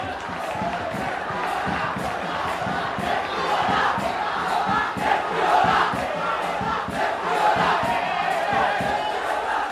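A large crowd at a schools rugby league match roars and chants continuously, dense and loud, with rhythmic shouted bursts rising and falling across the whole stretch.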